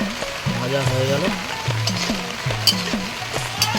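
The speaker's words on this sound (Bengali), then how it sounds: "আমাদের পকোড়া ভাজা হয়ে গেল" Chicken pakoras fry in hot oil at home, with a continuous crackling sizzle running under a voice throughout.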